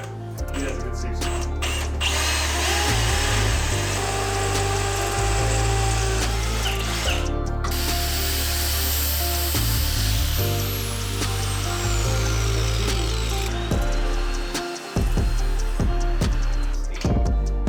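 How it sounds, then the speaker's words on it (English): A power drill whines continuously at high speed, briefly stopping and restarting, with loud grinding as it bores through holes on a 1955 Chevy. "I'll just put the tape there and drill through the holes"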